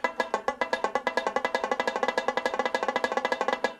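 Rapid, even plucked banjo notes in a down-down-down picking pattern ring out in a steady, driving stream, close and bright, with no voices.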